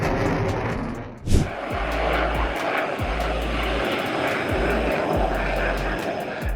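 Aircraft engines roar as airplanes fly past each other in the sky, a broad loud continuous drone with a sharp surge near the start and a rhythmic low pulsing throughout.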